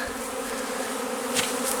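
Honeybees from a three-pound package, just shaken into a hive, make a steady, dense buzz close up with no speech over it. The hum holds even throughout, and a brief louder swell comes near the end.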